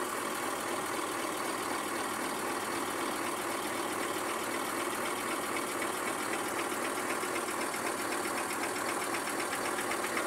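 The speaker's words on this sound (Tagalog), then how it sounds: "Yan po guys, nagkakarga yung air compressor natin. Lumalagatak na." The air compressor on an Isuzu 6WF1 truck is charging and gives off a steady, dense knocking clatter under constant engine noise. The sound is even and continuous the whole time, with no talk.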